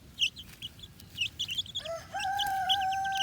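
Backyard chickens clucking and calling nearby, a series of short clucks followed by a longer rising squawk, fairly quiet over a faint outdoor background.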